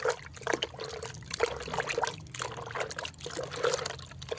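Homemade liquid bael leaf fertilizer stirred and sloshed in a container, with steady trickling and splashing water sounds up close, moderately loud, without speech.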